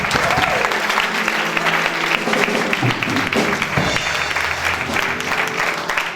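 A church congregation claps loudly and continuously, a dense close wash of applause with voices faintly mixed in.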